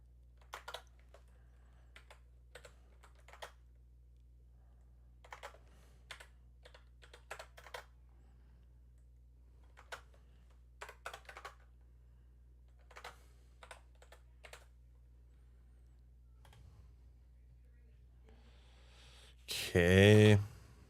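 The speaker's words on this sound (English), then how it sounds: "let me type in my stream key" Sparse bursts of keystrokes on a computer keyboard as a stream key is entered, quiet clusters of clicks separated by pauses, followed by a brief louder voice at the end.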